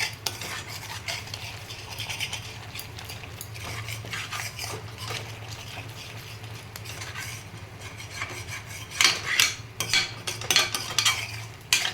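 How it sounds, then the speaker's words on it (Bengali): Spice masala for Kashmiri aloo dum being stirred and scraped in a pan with a spoon, steady rubbing and clinking throughout with a faint low hum, growing louder and more clattery near the end. "আর একটু মশলাটা কষিয়ে দিয়ে দেবো আলুগুলো"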